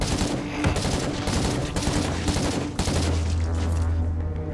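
Continuous video-game gunfire from Inquisitor Martyr, a dense rattling barrage of rapid shots with heavy low booms, loud and steady throughout with a brief dip near the middle.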